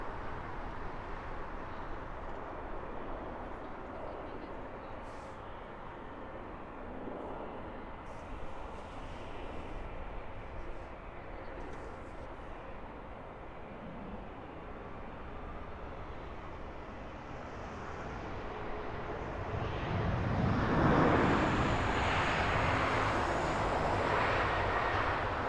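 A Virgin Atlantic Airbus A350-1000 arriving at Heathrow from Delhi, its engine roar a steady broadband rumble that swells noticeably louder toward the end as the airliner comes in closer.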